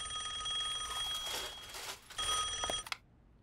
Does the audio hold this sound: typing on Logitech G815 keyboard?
no